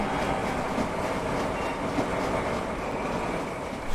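A train rumbling past in a video game, a dense, steady roar with faint rhythmic clatter and the odd metallic squeal, loud and continuous with no one speaking.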